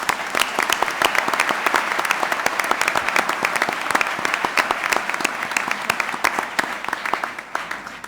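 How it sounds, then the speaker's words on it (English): A large conference audience at the World Economic Forum on Africa applauding, a sustained, loud, even roar of many hands clapping that holds steady throughout with no talking over it. "would like to welcome you in a round of applause for the Ethiopian government as well as for all the participants"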